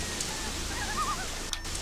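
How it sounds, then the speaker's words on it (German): Steady rain falls in the video game Gothic 3, a constant soft hiss of drops with a few faint bird chirps in the middle, no voices. "diesen Regen deaktivieren, aber das geht ja leider nicht"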